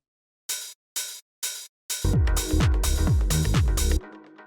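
A big open hi-hat sample in a deep minimal house beat rings out four times alone at an even pace, each hit long and splashy. It then continues over a pumping kick and bassline before the beat cuts off.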